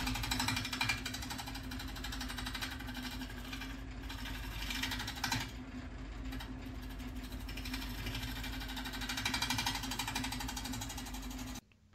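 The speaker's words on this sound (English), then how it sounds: "I've switched over to my negative rake scraper." A steady, loud mechanical whir of a spinning lathe with a continuous grinding scrape layered over it as a negative rake scraper cuts an ash wood bowl, unbroken for the whole stretch.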